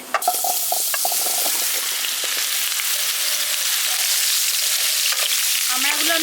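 Whole hog plums drop into hot oil already holding a dried red chili and five-spice seeds, a loud, steady sizzle and hiss with a few sharp spatters and a stirring clink near the end.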